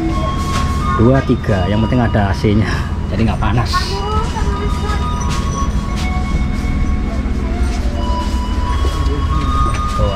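Constant rumble and rattle fill the interior of a moving Serayu economy-class passenger train, with someone talking closely over the steady rolling noise throughout.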